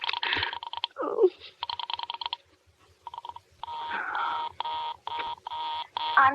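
Telephone busy signal on a Murray Hill exchange line in a 1943 radio suspense drama: loud, repeated buzzing tone bursts in a steady on-off rhythm, broken by a few short, softer sounds between them.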